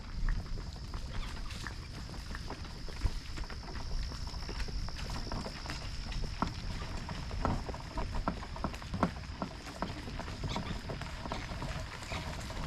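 A mule's hooves clip-clop steadily on rough ground while it pulls a cart downhill, with a faint rattle of the cart under the plodding steps.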